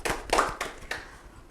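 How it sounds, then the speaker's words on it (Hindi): A small audience at a community council event claps briefly, a few loose, uneven claps that fade quickly. "एक बार तालियां बजाएं।"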